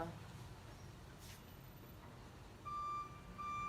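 A large truck reverses in a residential cul-de-sac, its steady backup beeps appearing in the last second and sounding moderately near over low road and engine rumble.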